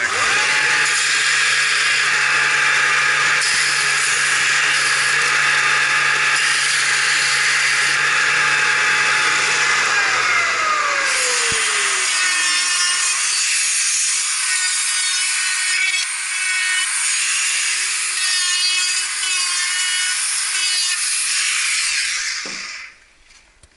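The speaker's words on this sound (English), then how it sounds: "We're going to hit this up on a sander to try to get rid of some of that slag." A power sander grinds the rough edge of a Kydex holster, a loud continuous abrasive roar with a motor tone that drops in pitch and winds down as the work eases, then stops abruptly near the end.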